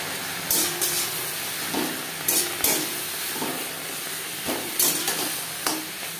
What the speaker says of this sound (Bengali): শুকনো খোলায় রসুন, কাঁচা লঙ্কা ও জিরে, কালো জিরে ভেজে নেওয়ার পর দিয়ে দেবো ওলের পাতা